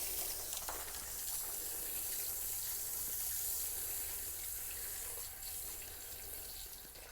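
Water pours steadily from a garden hose into a small fountain set in a plant container inside a greenhouse, a continuous close splashing trickle with no talk.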